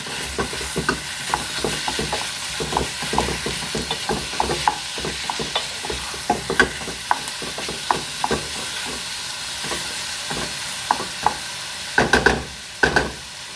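Chicken pieces for sweet and sour chicken sizzle and spit loudly in a hot pan, with frequent sharp crackles and pops over a steady frying hiss and occasional stirring, no talk.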